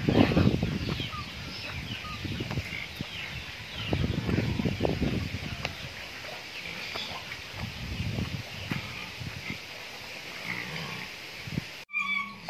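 Chickens cluck and murmur nearby in their coop in a steady cluster of short calls, with scattered rustling and faint background noise.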